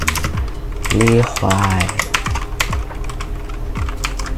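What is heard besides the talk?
typing code on a computer keyboard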